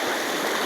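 River water rushes in a steady, close, full-bodied stream, a constant broadband flow with no pauses or voices.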